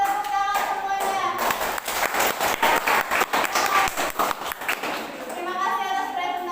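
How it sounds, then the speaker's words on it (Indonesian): Applause from a classroom of students after a group presentation, steady clapping rising and then fading out, with children's voices and some talk mixed in. "tepuk tangan semuanya"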